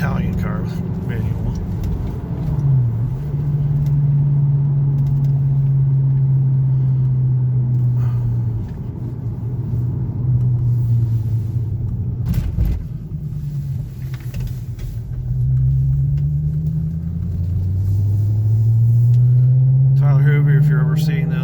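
A 2003 VW Passat W8 4Motion with a manual transmission climbs onto a highway. The engine drone rises in pitch, dips at gear changes and climbs again, heard from inside the car under someone talking throughout.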